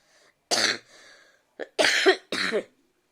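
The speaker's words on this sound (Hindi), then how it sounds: "धांस उठने के कारण मेरे को खांसी होनी शुरू हो जाती है" Several harsh coughs from one nearby woman with an irritated throat, a short burst followed after a pause by two louder, rougher coughs, with a faint throat sound between.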